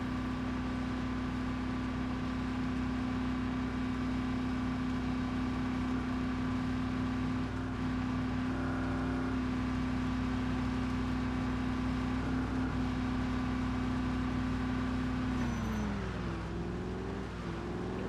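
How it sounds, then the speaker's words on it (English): Car engine held at maximum revs in second gear in the zombie survival game Project Zomboid, a steady loud drone with a constant pitch that dips and shifts near the end. "Second gear, maximum revs."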